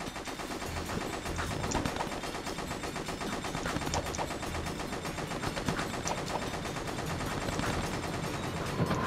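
Turrets in the video game Jak II fire without pause, a dense rattling barrage of rapid shots over loud game noise that stays steady and close throughout.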